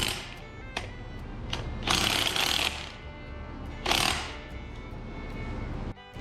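Power ratchet bumping down track bolts on a mini excavator during new track installation, several harsh mechanical bursts, the longest near two and four seconds, over a steady clattery working background with no talk.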